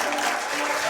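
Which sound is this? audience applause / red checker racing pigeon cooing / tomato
audience applause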